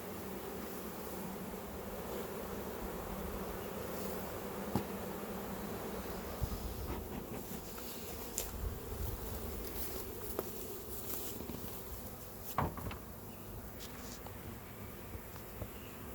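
Honeybees hum in a steady, dense drone from an open hive colony during a swarm check, a continuous close buzz with a few faint knocks and taps scattered over it, no talking.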